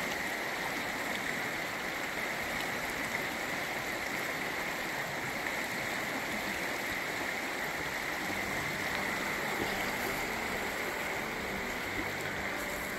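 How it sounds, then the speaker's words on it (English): Running creek water at Dells of the Eau Claire Park, Wisconsin, babbles steadily and evenly, a continuous rushing wash with no voices or other sounds on top. "It's such a nice sound, being down by a river or running creek."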